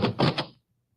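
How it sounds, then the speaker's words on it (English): A door closes in an old-time radio western sound effect, a short cluster of wooden knocks and a thud that cuts off abruptly into silence. "I heard a door close."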